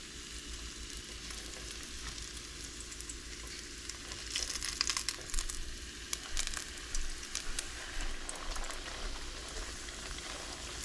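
Chimichangas frying seam side down in hot oil in a pan, a steady close sizzle and crackle throughout that grows busier and louder after the food goes in, with no talking.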